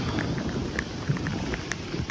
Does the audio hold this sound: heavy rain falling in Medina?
yes